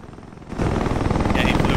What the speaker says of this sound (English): Enemy attack chopper inbound.